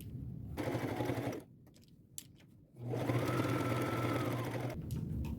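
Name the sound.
sewing machine stitching with blue thread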